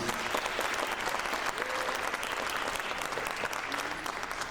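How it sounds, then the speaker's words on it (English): Audience applause fills a school concert hall at a midwinter high school concert, steady dense clapping throughout with a few faint cheers mixed in. "Big round of applause for them, please."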